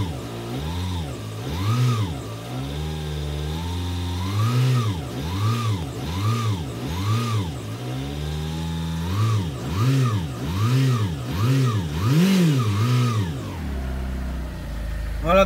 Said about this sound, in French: Donc je laisse un peu le moteur tourner à vide le temps que l'huile fasse le tour du circuit,